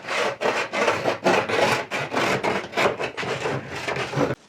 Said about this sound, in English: This is a great place to use files. You're just gonna kind of clean that stuff up